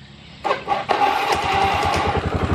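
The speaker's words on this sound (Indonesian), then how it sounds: "Nah starter udah bisa ya." A repaired motorcycle's electric starter cranks the engine, a fast rhythmic whirring chug that kicks in suddenly and runs steadily, close and fairly loud, with no talking.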